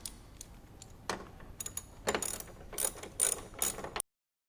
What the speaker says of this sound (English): we'll run these 12mm bolts down